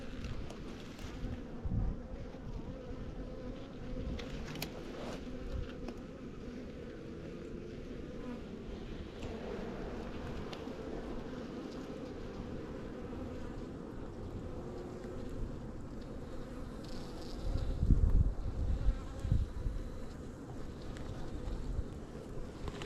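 Honey bees buzzing around a hive in early spring, a continuous low droning hum from many insects, moderately quiet and steady with a louder swell near the end, no speech.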